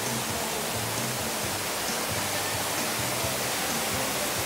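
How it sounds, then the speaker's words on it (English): Strong wind of about 25 miles per hour blowing straight at the camera with water spray, a dense roaring rush that stays loud and steady throughout, with no voices. "We got like 25 mile an hour consistent winds today. It's blowing straight at us right now."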